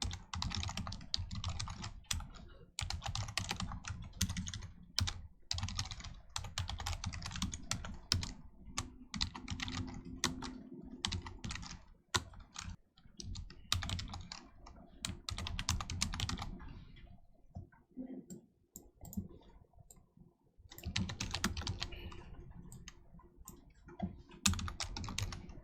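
Rapid typing on a computer keyboard while coding a React login input, with bursts of quick key clicks separated by short pauses.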